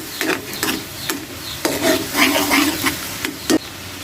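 Garlic frying in a pan until medium brown, bursts of bright sizzling and spattering broken by scraping stirs and a few sharp knocks of a utensil, loud and close with no voices.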